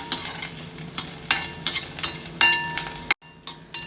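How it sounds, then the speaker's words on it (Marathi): Garlic frying in a pan with roasted lentils for curry leaf chutney, a steady close sizzle broken by repeated spatula stirring strokes, with a sudden brief drop to near silence near the end. "मी हा लसूण घालते लसूण चांगला लाल होईपर्यंत परता"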